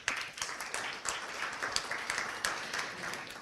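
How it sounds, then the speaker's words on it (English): An audience at an international conference on sustainable management applauds after a Thai and Myanmar dance performance, producing a dense, steady wash of clapping with crisp individual claps standing out. "Please give them another round of applause."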